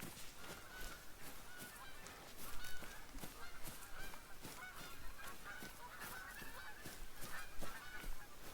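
A flock of geese in the Hunter: Call of the Wild video game, Yukon setting, honks repeatedly in a dense, overlapping chorus at moderate distance, with no talking.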